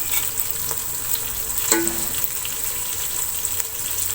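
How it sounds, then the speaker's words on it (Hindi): Tomatoes fry in a pan for aloo chicken, giving a steady close sizzle broken by an occasional stirring scrape, with no one talking. "टमाटरों को मैं थोड़ी देर भून लूंगी।"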